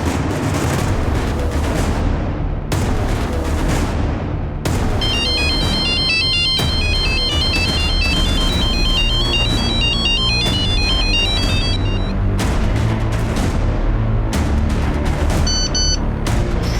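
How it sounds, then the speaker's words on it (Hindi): A phone ringtone rings on unanswered, a repeating electronic melody over loud dramatic music with heavy booming hits, with no talking. "सुजैन अपना फोन भी नहीं पिक कर रही है।"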